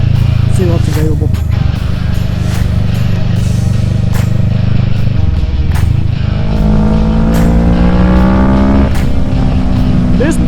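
A Kawasaki Z650 motorcycle engine runs on a dyno, a loud close drone that climbs steadily in pitch through a long pull, with someone talking over it.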